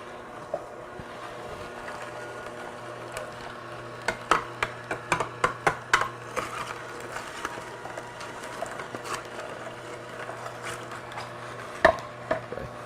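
A juicer grinds ginger for green juice, a low motor hum under a burst of crunchy, crackling clicks as the root is fed in, then quieter whirring.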